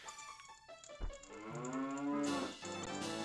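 Cows moo in The Legend of Zelda: Ocarina of Time, a few long, drawn-out game-sound lowing calls that overlap one another over background game music, loud and close, with no talking.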